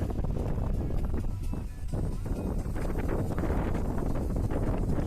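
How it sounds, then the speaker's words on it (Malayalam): Strong wind gusts across an open, green hilltop viewpoint near the Kuravan Kurathi sculpture, one of Asia's windiest spots, roaring and buffeting the microphone in a loud, continuous rush with no voices. "ഏഷ്യയിലെ തന്നെ ഏറ്റവും അധികം കാറ്റ് വീശുന്ന സ്ഥലങ്ങളിൽ ഒന്നാമതാണ് ഈ സ്ഥലം"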